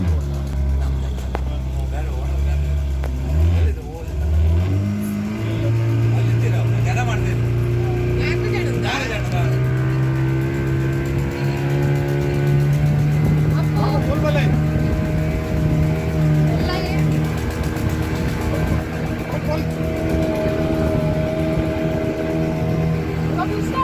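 A motorboat engine drones steadily and loudly throughout a river ride where the Swarna river meets the Arabian Sea, its pitch rising and falling with throttle while passengers talk over it.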